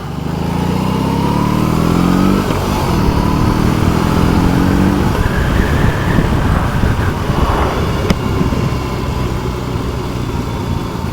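A BMW R18 Bagger motorcycle pulls away and rides on, its big boxer engine loud and close, climbing through revs with gear changes and steady road and wind noise underneath.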